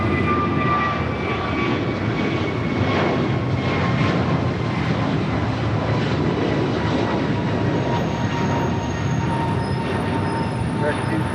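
An airliner takes off from runway 25 right at Los Angeles International Airport, its engines a steady, broad, loud roar that holds for the whole stretch, with faint tonal whine riding above the rumble.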